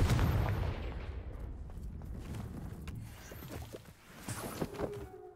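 A Confringo blasting spell in Hogwarts Legacy erupts as a loud, explosive burst at the start, then decays into crackling, scattered debris-like pops.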